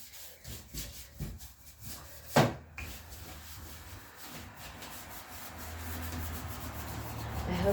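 A buffing brush works over a furniture surface in brisk back-and-forth strokes, a close, soft rhythmic rubbing with one sharper scrape early on before settling into a steadier brushing hiss.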